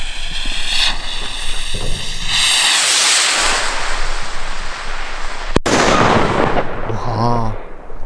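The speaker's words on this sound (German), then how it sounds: "So, die nächste kleine Rakete von Full Sky." A small Full Sky Red China 40-gram firework rocket launches with a rising whistling hiss and crackle, followed by a sharp bang, with someone speaking briefly near the end.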